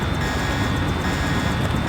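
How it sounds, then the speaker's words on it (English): Deus Ex helicopter idling nearby, a dense continuous engine roar with steady broadband hiss and no distinct rotor beats, loud and unbroken, without talk. "The helicopter is waiting."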